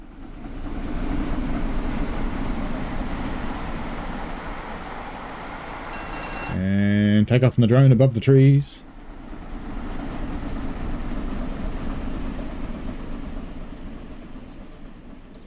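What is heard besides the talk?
train passing in Just Trains West Coast Main Line video game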